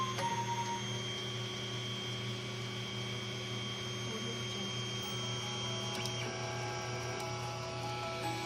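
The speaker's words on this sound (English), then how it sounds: "Gonna hit that stepper motor. It's gonna come down to this one." A Tevo Tornado 3D printer homes its axes, its stepper motors giving a faint, steady electric whine and hum with a few soft pitch shifts as the carriage moves, in a quiet room.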